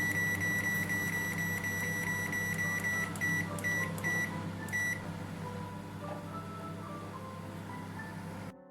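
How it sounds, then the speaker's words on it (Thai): Microwave oven running while cooking sticky rice for mango sticky rice, a steady close hum with a series of bright beeps in the first five seconds, then the loud drone continuing alone. "แล้วก็นำไปใส่ไมโครเวฟ12 นาทีนะคะ"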